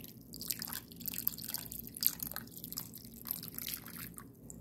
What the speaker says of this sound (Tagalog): Ayan, dagdagan pa po natin siya ng water.